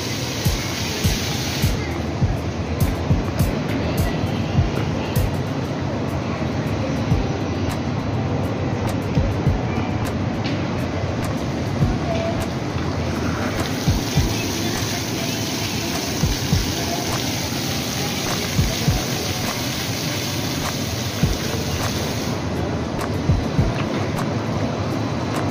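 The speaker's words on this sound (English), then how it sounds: "And there's a water fountain around this area." Water from a fountain in a shopping mall splashes and rushes continuously at moderate volume, a dense steady wash with small irregular spatters throughout.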